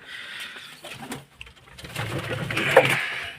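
Pigeons coo softly close by inside a coop, a low murmuring of several birds with faint rustling and shuffling.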